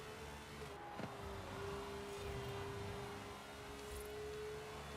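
Car engine running steadily in the racing game Forza Horizon 5, a continuous drone with a sustained tone, quiet and alone without talk.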